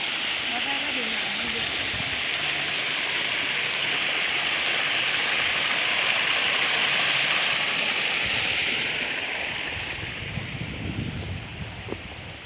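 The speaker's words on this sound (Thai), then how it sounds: "น้ำตก" Steady broadband rush of a waterfall in southern Laos near Pakxong, Champasak, a continuous roar that holds level for most of the stretch before easing slightly near the end, with faint low bumps underneath.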